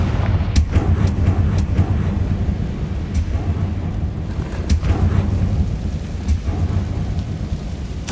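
Fiery Confringo spell blasts in the Hogwarts Legacy video game, heavy booming impacts landing at intervals over a dense, rumbling stormy wash of sound, loud and close with no talking.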